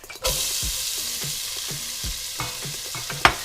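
Onions fry in a pan with a steady, close hiss of sizzling oil, punctuated by soft scrapes and taps of stirring and a sharper clack near the end.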